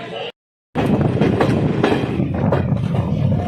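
The Jan Shatabdi Express rumbles steadily as it pulls away from Yamunanagar Jagadhri station, with broadband rolling noise and faint clatter after a short silent gap near the start.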